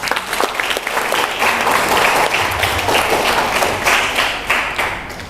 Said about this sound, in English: Let us give a big round of applause for Rehan.